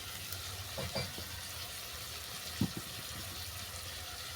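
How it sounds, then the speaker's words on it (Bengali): Turmeric powder frying with chicken masala in a pan, a faint, steady sizzle with a few soft stirring knocks and scrapes. "মশলাটা ভালো করে কষিয়ে নেব"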